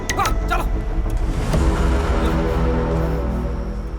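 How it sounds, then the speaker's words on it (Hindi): A car engine turns over and keeps running, loud and close, with the motor building and rumbling steadily as the vehicle pulls away, a short burst of sharp mechanical noise at the start. "गाड़ी स्टार्ट कर, चल।"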